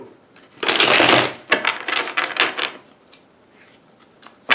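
Tarot cards shuffled by hand: a dense, loud burst of riffling, then a run of shorter papery flutters and taps that fade before a final snap at the end.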